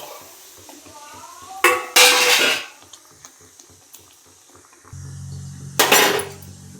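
Butter beans tumble into a pan with a clattering scrape, followed by a second clatter and a low sizzle, utensils clinking against metal.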